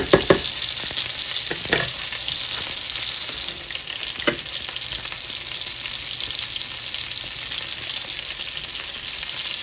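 Butter sizzles and fries in a pan for garlic butter cod during a home Sunday dinner cook, a steady, bright hiss throughout with a few sharp pops and crackles near the start.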